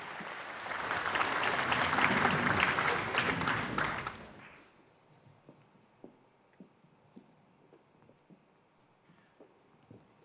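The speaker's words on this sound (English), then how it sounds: "I'm sure we can have a round of applause." Audience applause at a Commonwealth parliamentary conference in Sri Lanka: a dense round of clapping from a large hall that fades out after about four seconds, followed by quiet room sounds and scattered small knocks.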